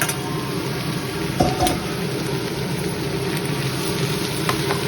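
Ridge gourd dal curry being stirred in a pan, with a steady close sizzle and soft scraping of the spoon against the metal, plus a couple of brief louder clinks near the middle.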